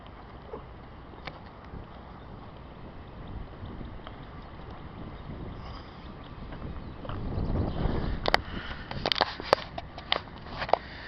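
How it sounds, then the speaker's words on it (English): Heavy wind blowing outdoors with trees swaying, a continuous low rushing roar that swells louder toward the end, with scattered brief knocks and crackles. "Look at the trees swaying in the wind. It is really windy out."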